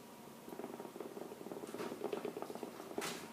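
Pancake batter poured from a shaker bottle into a hot pan for a breakfast-for-dinner cooking session, giving a steady soft sizzle and bubbling patter that builds over a few seconds, close and alone.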